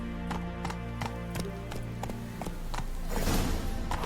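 Roach, the horse in The Witcher 3, galloping at a quick steady beat with crisp, evenly spaced hoof clops, moderately loud and close, with a soft swelling whoosh near the end.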